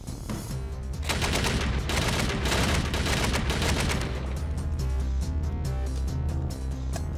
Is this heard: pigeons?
no